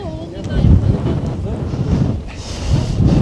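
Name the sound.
strong wind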